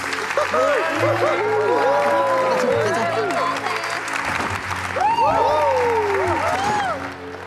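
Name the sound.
audience applause at certificate ceremony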